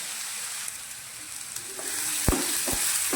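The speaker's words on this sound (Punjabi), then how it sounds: "ਘੱਟ ਫਲੇਮ ਤੇ ਆਪਾਂ ਸਾਰਾ ਇਹ ਮਸਾਲਾ ਭੁੰਨ ਲੈਣਾ ਹੈ" Masala and onions sizzle and roast in a pan over a low flame for an aloo baingan sabzi, a steady frying hiss with a few dull scraping stirs near the end, close by and with no talk.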